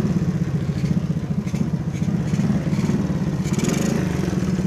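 A Honda C70 motorcycle engine, started after sitting unused for weeks, putters close by in a steady rapid idle with a slight clatter and brief revs.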